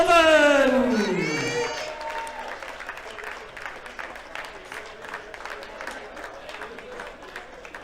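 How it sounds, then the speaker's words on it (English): An audience at a darts championship final applauds the Welsh runner-up, Rian O'Sullivan. A speaking voice opens the clip, then sustained clapping from a large crowd in a hall gradually fades. "Once again, more applause for the finalist, Rian O'Sullivan."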